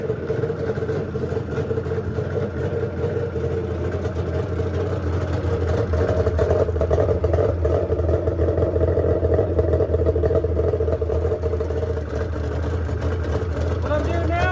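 Rebuilt 1997 Arctic Cat ZRT 600 triple-cylinder snowmobile engine idling steadily during gentle break-in, a continuous low droning hum with a nearby voice talking over it.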